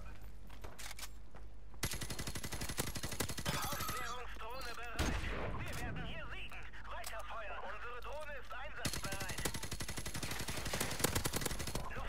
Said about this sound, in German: da kannst voll durch die Wände schießen